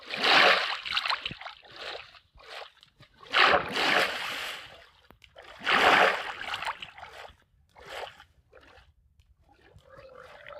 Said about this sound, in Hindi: ओके मैं पानी में तो हूँ, तो मैं पानी के सहारे जाने की कोशिश करता हूँ।